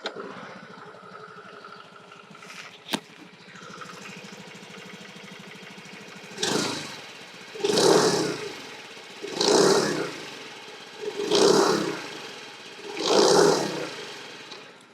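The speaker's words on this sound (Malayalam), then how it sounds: "ഇനി ഈ ഒരു സൈലൻറ്റ് സ്റ്റാർട്ടും ഈ ഒരു എഞ്ചിൻ്റെ സൗണ്ടും ഞാൻ കേൾപ്പിച്ചു തരാം" TVS Jupiter 110 scooter starting quietly and idling, a soft low hum followed by five evenly spaced throttle blips that rise and fall, heard up close.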